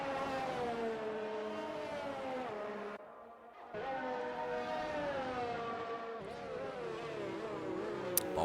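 Several F1 race car engines in F1 2019, screaming high-pitched harmonics that rise and fall through gear changes, cutting out briefly for a moment before resuming loud and continuous, with no talking.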